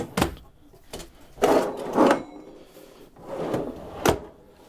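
Pull-out utensil drawers in the kitchen of a 2025 Nash 23CK camper trailer, sliding open and shut several times in close succession with hollow wooden rumbles and soft knocks, near and fairly loud.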